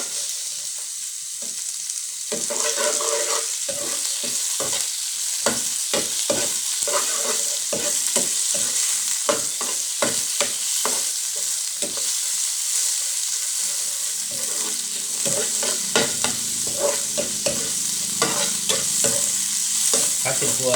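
Pork stir-frying with garlic in a hot pan, a steady loud sizzle with repeated scraping stirs throughout, a quieter opening second or two before the frying noise swells.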